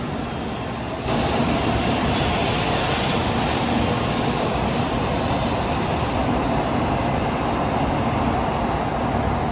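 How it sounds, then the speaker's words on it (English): A Shinkansen bullet train leaves a station platform on the Tokaido line, a steady loud roar of rushing rail and air that swells abruptly near the start and holds. "we saw the previous train before ours head off"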